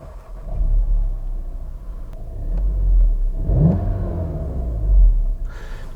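A car engine rumbles at idle, then revs up with a rising growl before settling back to a low, steady hum.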